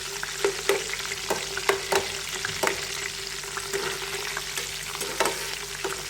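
Raw banana chips deep-fry as oil bubbles and crackles in a continuous sizzle while being stirred, with periodic scraping taps against the pan.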